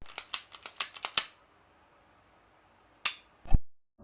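Metallic clicks and clacks as a Glock 17 pistol is cleared and its slide worked, a quick burst of sharp mechanical snaps followed by a pause, then two more distinct clacks, close and fairly crisp.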